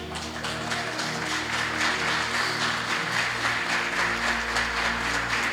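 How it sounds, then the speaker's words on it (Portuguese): Church congregation applauding loudly and steadily, a thick wash of many clapping hands over a sustained keyboard pad, continuous throughout. "Pode aplaudir ao Senhor bem forte."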